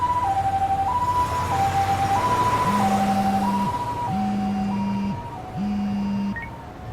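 An ambulance siren from the video game Lost Judgment wails in a steady two-tone hi-lo pattern, loud and continuous, joined by a lower repeating horn tone partway through.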